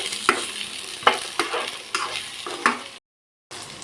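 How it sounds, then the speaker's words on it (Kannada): Onion, coriander, chillies, garlic, ginger, cinnamon and cloves frying in a pan, a soft continuous sizzle broken by about six sharp spatula stirs and scrapes, with a short silent gap near the end. "ಈರುಳ್ಳಿ, ಧನಿಯಾ, ಬ್ಯಾಡಗಿ, ಬೆಳ್ಳುಳ್ಳಿ, ಶುಂಠಿ, ಚಕ್ಕೆ, ಲವಂಗ ಇದೆಲ್ಲ ಚೆನ್ನಾಗಿ ಫ್ರೈ ಆಗಿದೆ"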